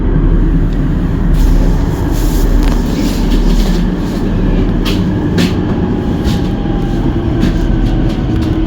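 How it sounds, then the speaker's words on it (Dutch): A Rotterdam metro train rumbles steadily along the rails near Schiedam Centrum, with rhythmic clicking from the wheels and occasional sharp clacks, loud and close from inside the carriage. "Deze metro stopt niet op alle stations."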